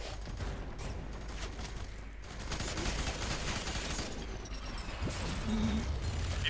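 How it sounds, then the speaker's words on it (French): Gunfire aimed at a mech in the video game Fear 3 rattles in dense, continuous bursts under a noisy, crowded game soundscape, fairly quiet overall and with no clear talk. "je vais voir si j'arrive à tirer sur le méca"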